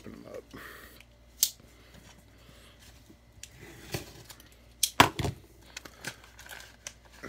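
Trading card packs being torn open and handled by hand, with crinkling foil wrappers, sharp tearing bursts and card shuffles, close and fairly quiet, with faint talk in the background.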